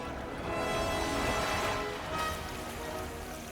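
Steady rain falls in a continuous broadband hiss at a fairly even level, swelling slightly in the middle, with no talk.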